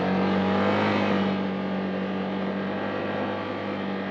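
A 2025 Can-Am Outlander 1000R XT-P ATV engine runs loud and steady up close, a sustained drone with a strong low hum that eases slightly after the first second, with no talk.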